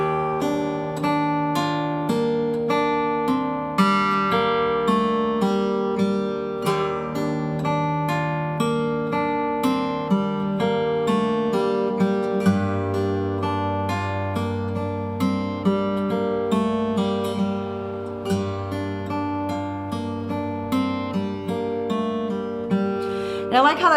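Steady acoustic guitar fingerpicking with an alternating bass line moving between the sixth and fifth strings, plucked notes ringing continuously and clearly throughout, played solo with no talking.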